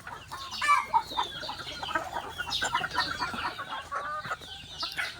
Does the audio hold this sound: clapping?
no